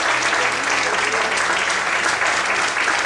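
A church congregation applauding during a sermon, loud sustained clapping from many hands with a steady, even texture and no speech over it.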